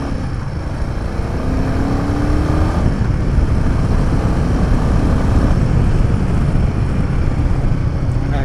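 A Bajaj Pulsar NS motorcycle rides at a steady pace, its engine droning constantly and loud under heavy wind rush, with no clear change in revs.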